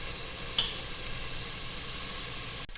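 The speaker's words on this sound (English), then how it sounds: "add the garlic in after about 3 to 5 minutes of sauteing those onions" Chopped onions sauté in a pan with a steady, soft sizzling hiss, alone and close, with a faint clink near the start and a stirring scrape at the end.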